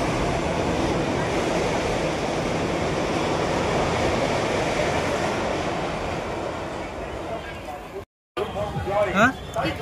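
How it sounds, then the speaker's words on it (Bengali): An express train rushes past close by, a loud, steady broadband roar of rolling wagons that holds for about eight seconds before cutting off abruptly, followed by fainter clatter and a brief voice. "চলে যাচ্ছে এক্সপ্রেস।"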